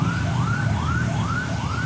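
An ambulance siren wails in a steady repeating rising-and-falling cycle over a low rumble of traffic and engine noise, loud and close, with no talking.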